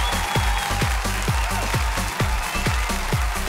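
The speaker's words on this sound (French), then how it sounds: "Et merci au public de rythmer leur part par des applaudissements" Audience at a live opera competition show clapping in unison to a steady beat, loud and even, about two claps per second.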